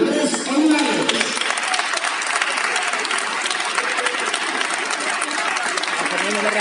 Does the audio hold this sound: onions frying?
no